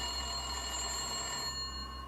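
A phone rings with a steady electronic trill, sustained tones held over a constant low hum, no voices.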